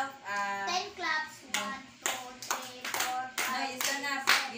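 Children in a classroom clap together in a rhythmic series of claps, with young voices chanting along in time between the beats.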